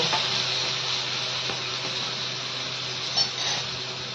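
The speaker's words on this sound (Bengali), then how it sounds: "এবার এতে একটু জল দেব" Water being poured into a pan of cooking prawns and chillies, a close, steady rushing splash under a low frying sizzle, with a brief louder burst near the end.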